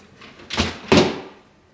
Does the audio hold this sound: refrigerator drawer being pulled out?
yes